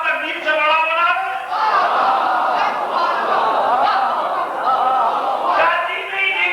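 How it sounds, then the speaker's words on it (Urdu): A large crowd at a Muharram majlis gathering shouts in unison, a loud sustained mass of voices rising in waves across the whole stretch, like a chanted slogan answered by the audience. "اب آج میں نعرے تکبیر لب بننا ہے."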